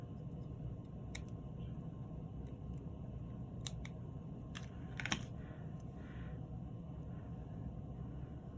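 Scissors cut paper for a handmade gift bag in a quiet indoor craft setting, giving a few brief, faint snips spaced apart over a low steady background hum.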